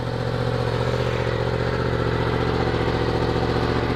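Yamaha FZ10 (MT-10) motorcycle fitted with a Yoshimura Alpha exhaust and dB killer, idling up close with a steady, loud, throbbing low rumble and mechanical clatter.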